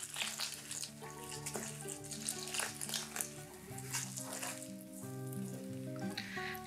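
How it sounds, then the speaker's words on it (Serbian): Hot water stirred into sifted soft flour in a mixing bowl, a continuous wet scraping and sloshing of the mixture, close and moderately loud over background music. "Vrelu vodu sipamo u prosejano brašno i mešamo sve zajedno."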